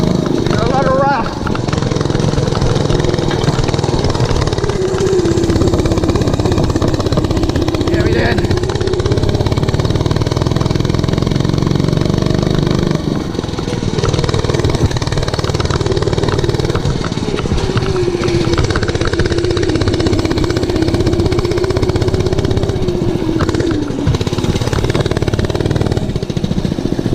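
Motorcycle engine climbing a rough off-road hill, a continuous loud, rising and falling drone throughout with bumps and rattles and a voice speaking over it.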